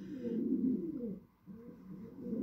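Racing pigeons in a loft coo in low, throaty murmurs, a steady close cluster of overlapping calls that dips briefly quiet before resuming.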